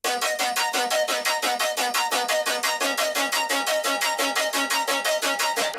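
An arpeggiated synth patch at a 1:8 rate in an electronic production, a rapid, even stream of bright repeating notes pulsing steadily and loudly throughout, with no voice.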